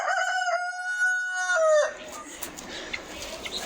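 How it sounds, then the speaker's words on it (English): A rooster crows once, a long clear call that rises and then trails off, fairly close. Quiet outdoor ambience follows in Brazil. "But yeah, I have roosters."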